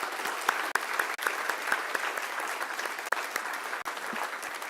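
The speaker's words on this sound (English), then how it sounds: "they all deserve a round of applause." An audience applauds for a hospital Child Life team, a steady, full round of clapping from a crowd that holds even throughout.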